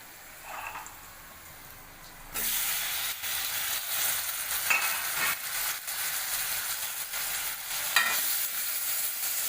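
Chopped tomato hits a pan of fried onions and breaks into a loud, sustained sizzle after a quiet start, with stirring scrapes and crackles running through it.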